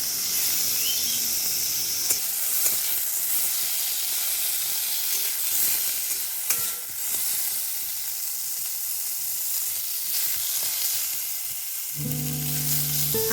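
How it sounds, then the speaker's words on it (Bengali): Eggplant frying in oil in a kadai gives a continuous loud sizzle and hiss, with a few faint clinks of stirring and no talk. "আর এদিকে দেখো বেগুনটা আমার কড়াইয়ে প্রায় অর্ধেক ভাজাভাজি হয়ে গেছিলো"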